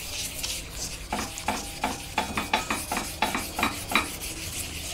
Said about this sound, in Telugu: ఆయిల్తో ఈ విధంగా రఫ్ చేసేసానండి